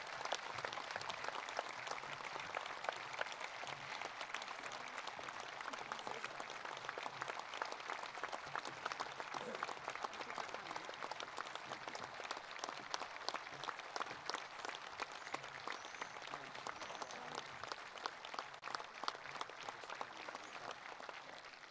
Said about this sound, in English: I ask Cavalier Nation to put their hands together in a round of applause